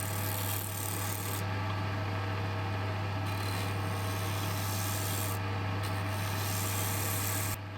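A negative-rake scraper shaves a spinning wood piece on a lathe, giving a steady continuous rasping hiss over a constant low motor hum that runs unbroken and ends abruptly.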